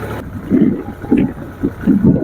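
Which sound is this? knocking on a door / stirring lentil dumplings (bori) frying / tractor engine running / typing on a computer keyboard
tractor engine running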